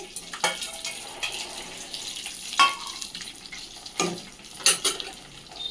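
Chicken pieces fry in oil for a pickle, a soft bubbling sizzle punctuated by a few louder splashes and clinks of stirring.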